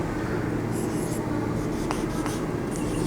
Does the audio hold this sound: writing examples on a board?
yes